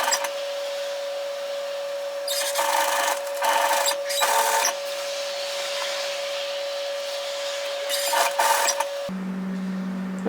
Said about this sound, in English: we're going to sew this down, and we're going to sew it directly through the gathering line